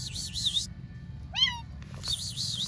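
Kittens abandoned under a vehicle give several short, high, plaintive meows, close and clear, one after another with brief gaps.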